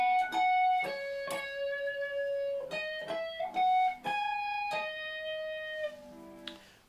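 Electric guitar solo passage from a song, played as clear sustained single notes and bends in a melodic run, close and alone with no talking.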